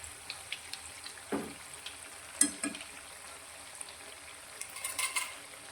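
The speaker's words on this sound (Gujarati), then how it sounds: "તો હવે તેને આપણે આ રીતે ફેવરી લઈશું અને બીજી સાઈડથી પણ એકદમ સરસ એવો ક્રિસ્પી થાય તે રીતે તળીશું." A green fenugreek snack is turned and fried crisp in oil, giving a faint low bubbling sizzle with a few soft clinks and scraping touches scattered through it.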